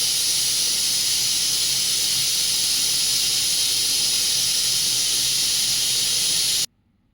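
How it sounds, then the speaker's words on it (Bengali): A pressure cooker cooking mutton curry with potatoes lets out a loud, steady hiss of escaping steam for several seconds, then cuts off abruptly into near silence. "এবার কুকারে দুটো সিটি হবে"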